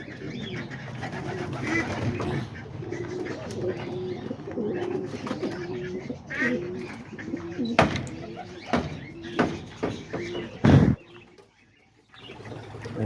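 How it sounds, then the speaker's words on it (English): Pigeons in a loft with new babies and nesting birds coo in low, repeated rolling calls close by, with occasional wing flaps and a sharp rustle near the end, under a man's speech. "there's the pigeons right here"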